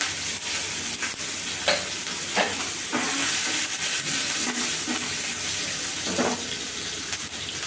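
Ginger and tomatoes fry in a pan, a steady wet sizzle with intermittent stirring scrapes and soft clatter throughout, close and fairly loud.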